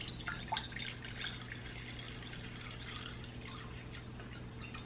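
Purified water poured into a measuring cup for brining mason-jar fermented pickles, a soft steady trickle with a few drips near the start, faint and close against a low hum.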